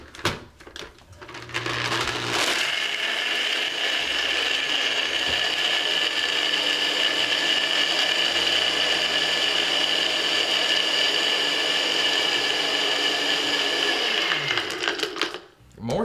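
A machine churns ice for a whiskey slushy cocktail, grinding up loudly after a rattling start, then holding a steady, buzzing whir for about twelve seconds before cutting off abruptly.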